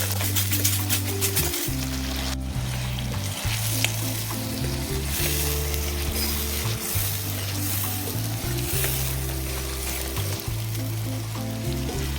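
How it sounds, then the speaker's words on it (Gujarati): Tomatoes cook in hot oil in a pan for an onion curry, giving a steady, close sizzle and frying hiss with a low hum running underneath, no talking. "ટમેટાને છે થોડીક વાર ચડવા દેશું."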